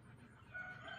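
A backyard chicken gives a brief, faint cluck outdoors, heard at a distance over low ambient noise.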